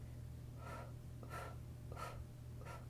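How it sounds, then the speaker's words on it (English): Soft breathing during a meditation session comes in four evenly spaced, quiet breaths, each a short airy rush over a low steady hum. "So deep, powerful inhales, and 8 nice little segments of your exhales."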